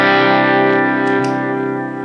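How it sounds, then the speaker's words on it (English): Electric guitar run through a phaser pedal that adds a boost, a thick, distorted sustained chord ringing steadily and alone with swirling effect and slight decay toward the end. "I just turned the phaser on. The phaser's also giving me a boost."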